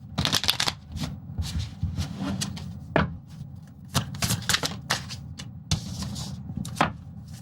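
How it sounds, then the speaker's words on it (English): Tarot cards being shuffled by hand during a live reading, with repeated crisp riffling bursts and soft slaps of the deck at close range, no talking. "We're still shuffling."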